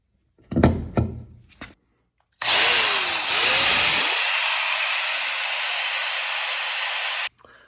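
A long bolt clamped in a vise is cut down with a power tool, a few short knocks and handling sounds first, then a loud steady high-pitched grinding whine that runs for about five seconds and stops abruptly.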